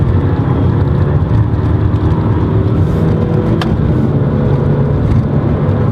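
A 2017 Honda Civic Hatchback Sport Touring drives along in a steady, loud cabin rumble of engine and road noise, with a single faint click partway through.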